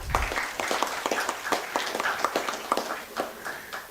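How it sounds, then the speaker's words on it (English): A small audience at an investor protection event gives scattered, fairly quiet applause, with individual claps standing out in an uneven rhythm throughout. "Big round of applause to NAC first."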